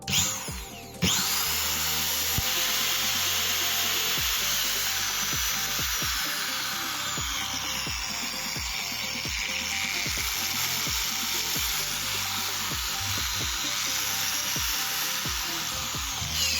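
A repaired Dnipro-M angle grinder spins up with a click and runs steadily at a loud, close, high whine for the whole stretch, no talk.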